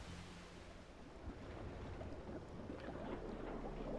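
Heavy water sloshing and surf-like wash from a tank plunging into water in World of Tanks, a broad steady roar of splashing and churning that swells slightly louder toward the end, with no talking.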